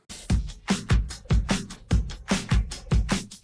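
A looping drum pattern extracted from a pop song repeats steadily: punchy low kicks with crisp snare and cymbal hits, a tight, even groove heard alone.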